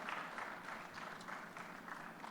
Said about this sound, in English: I welcome Vikas with a big round of applause.